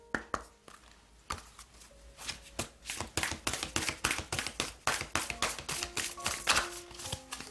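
Oracle cards being shuffled at a tarot reading table: sparse taps at first, then dense, rapid riffling and slapping of cards building into a quick, close, continuous clatter, no voices.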